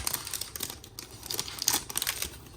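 A 2023 Panini Chronicles Draft Picks football card pack is torn open and handled up close, with crinkling foil wrapper and quick rustles in uneven bursts.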